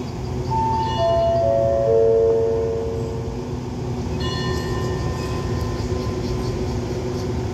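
A special express train rolls into Ban Pong station in Thailand over new points, giving a steady loud rumble with high tonal whines and squeals layered on top throughout.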